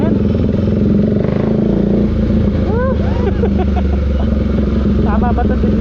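Continuous engine drone from a KTM RC390 sports motorcycle while riding, close and loud, with someone talking over the steady rumble.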